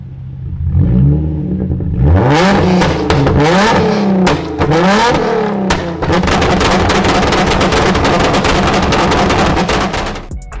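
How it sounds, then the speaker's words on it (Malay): Car with a twin straight-pipe full exhaust system revving hard, loud rising and falling blips giving way to a sustained raspy high-rev roar, close and alone with no voices. "Twin exhaust, full system straight pipe."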